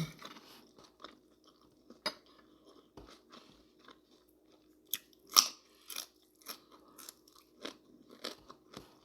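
Someone eating a Thai rice noodle salad (yum khanom sen) alone: close crunching bites and soft chewing with occasional light scrapes, scattered irregularly through quiet gaps.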